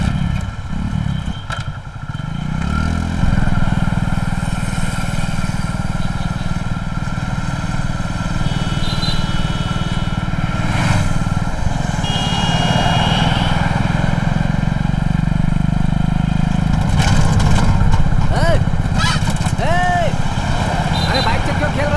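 A motorcycle engine idles and revs steadily close by on a street for about twenty seconds, loud and continuous, with voices talking over it.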